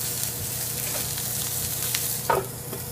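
A thick ribeye steak sizzles steadily in a hot pan, a continuous crackling fry with occasional brief pops and a faint scrape of stirring near the end, all fairly quiet with no talking.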